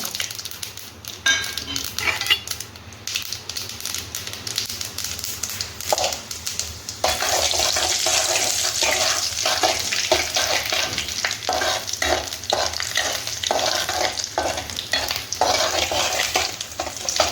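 Mustard seeds and chana dal fry in sesame oil, a close crackling sizzle that swells midway into a loud, dense spatter with repeated spoon stirs and scrapes against the pan.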